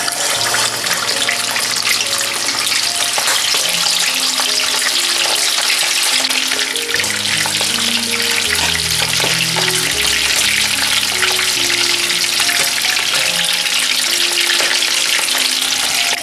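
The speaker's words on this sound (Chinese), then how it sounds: "油温大概180度下鸡腿" Chicken drumsticks deep-frying in oil at about 180 degrees over high heat, a loud continuous crackling sizzle with bubbling pops and occasional clinks from utensils throughout.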